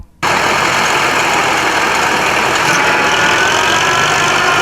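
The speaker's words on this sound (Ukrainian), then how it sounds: "Гуркотіли трактори, закипіла робота." Tractor engine running steadily in a spring field during planting, a loud continuous droning rumble that starts abruptly after a brief silence and holds at a constant level throughout.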